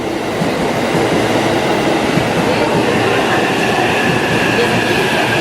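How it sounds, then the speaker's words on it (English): A long 15-carriage Takasaki line commuter train passes close by in the Tokyo and Kanto area, its loud, steady rumble and rail clatter filling the whole stretch without pause. "Here comes the train, Takasaki line."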